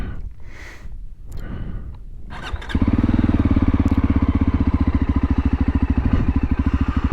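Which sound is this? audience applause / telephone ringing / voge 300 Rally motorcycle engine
voge 300 Rally motorcycle engine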